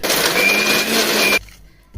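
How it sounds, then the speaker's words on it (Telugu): A mixer grinder blending a ripe red chilli chutney, a loud steady whirring burst for over a second that cuts off abruptly, followed by a quiet pause. "మొత్తం మనం కలిపెట్టుకునింది మిక్సీలో వేసి ఒకసారి మిక్సీ పట్టుకుందాం"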